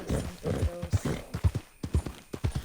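Horse hooves clip-clop in a steady, evenly spaced rhythm from a horse in Red Dead Redemption 2, loud and close with no talk over them.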